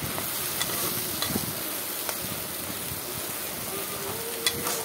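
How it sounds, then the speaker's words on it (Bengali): Spices for Katla fish kalia frying together in a pan, a continuous dense sizzle with occasional stirring scrapes and pops, close and steady throughout. "কাতলা মাছের কালিয়ার জন্য সব কিছু মশলা রেডি করে একসাথে এখন ভেজে নেব"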